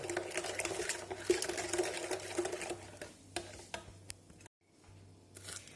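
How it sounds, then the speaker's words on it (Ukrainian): Steady scraping and swishing of a utensil stirring batter of eggs and sugar for poppy seed cake layers in a bowl, with a brief pause near the end before stirring resumes. "І то все я добре розмішаю"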